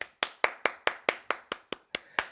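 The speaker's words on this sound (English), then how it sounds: "Everybody clap your hands." Children clapping their hands in unison, about ten crisp, evenly spaced claps in a steady rhythm, close and clear with silence between each beat.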